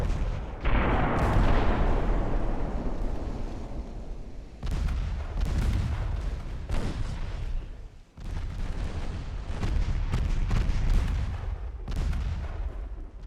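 Battleship turret guns fire in a naval warfare video game, with heavy booming salvos that roll and decay, followed by further deep blasts and rumbling bursts in quick succession.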